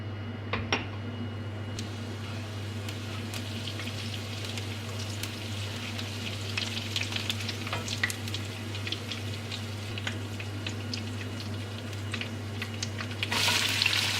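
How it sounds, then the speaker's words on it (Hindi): Cumin seeds sizzle in hot oil with a steady, crackling hiss and scattered pops, under a constant low hum, followed by a brief louder burst of frying near the end. "ऑयल गरम हो गया है, इसमें मैं अब ज़ीरा डालूंगी।"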